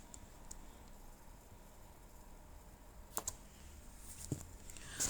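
A few sparse computer keyboard presses, the Alt and Shift keys held down, click faintly and close by in an otherwise quiet room.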